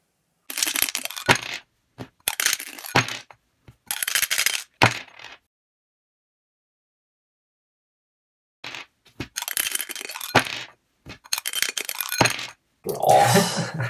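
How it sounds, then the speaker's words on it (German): Dice being rolled repeatedly, each throw a burst of hard clattering and rattling on a surface lasting about a second, coming in quick runs separated by a long silent gap, close and fairly loud, with no talking. "Sagen Sie, Sie müssen 120 Mal würfeln."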